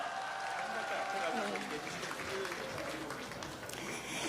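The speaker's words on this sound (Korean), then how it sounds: "큰 박수 부탁드립니다" Crowd applause at an outdoor political campaign rally in Busan, a dense continuous wash of clapping under a speaking voice, moderately loud and steady throughout.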